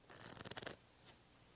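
A deck of playing cards being shuffled, a quick close riffle of fluttering card edges lasting under a second, followed by one faint soft tap.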